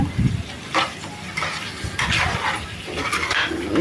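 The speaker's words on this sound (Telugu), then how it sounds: "ఎల్లిపాయ కారం వేసుకొని ఒకసారి కలిపేసుకోవాలి" Chicken fry with onion chili powder is stirred in a hot pan, with a spoon scraping and clinking in uneven strokes over a continuous loud sizzle.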